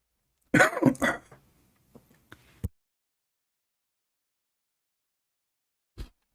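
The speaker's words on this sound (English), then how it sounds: "Sorry, I'm coughing." A person gives a short burst of close, harsh coughs, followed by a few faint throat sounds and one more brief cough after a quiet pause.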